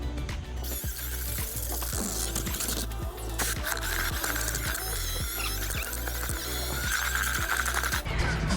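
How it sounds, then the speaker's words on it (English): A drill spinning a paddle bit through mortar in a bucket for stone veneer pointing on a fireplace, giving a steady close mechanical whir with rhythmic scraping and knocking pulses throughout, no talk. "So we're mixing it with one of these paddle bits."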